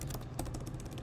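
Fast, steady typing on a computer keyboard, a dense run of close key clicks heard alone.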